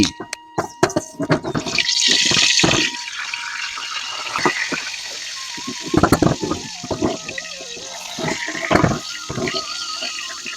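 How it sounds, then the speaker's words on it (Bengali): Boiled potatoes fry in hot oil in a wok, giving a close, hissing sizzle broken by sharp clatters of a utensil against the pan, while a voice speaks over the cooking. "তার জন্য প্রথমে আলুগুলোকে আমরা এখানে ভেজে নিচ্ছি"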